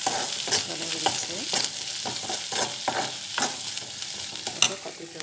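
Onions fry in a pan with a close, continuous sizzle and repeated scraping strokes of a spoon stirring, no voices heard.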